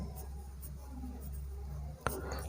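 A pen writes on paper at close range, a faint scratchy scribble of short strokes with one sharp tap near the end, heard alone over a low room hum.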